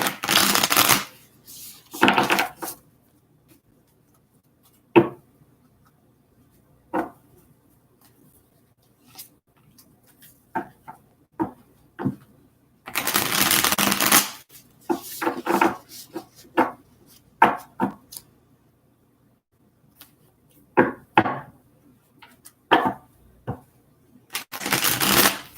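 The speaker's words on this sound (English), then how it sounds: "just a few more shuffles here for Aries" Tarot cards shuffled in bursts of riffling and quieter card taps, with irregular pauses between rounds, close and clear with no talking.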